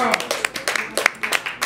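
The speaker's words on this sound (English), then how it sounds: "Please keep clapping" Audience applause at a live contemporary experimental poetry reading, a scattered patter of claps with individual sharp hits, moderately loud and mixed with voices talking.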